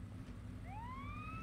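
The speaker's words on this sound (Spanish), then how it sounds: "al igual que la ambulancia, podemos activar la sirena" A police car siren in Lego Batman 2 DC Super Heroes starts up and rises in a smooth upward sweep over a low steady engine drone, fairly faint.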